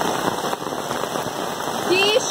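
Heavy rain pours steadily in Ubatuba, São Paulo, flooding a yard and street, a dense continuous hiss close by with a voice speaking over it.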